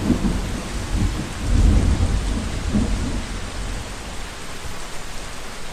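Heavy rain pours down steadily on a large eastern Thai forest in a dense hiss, with low rumbling thunder rolling beneath it, loud and continuous.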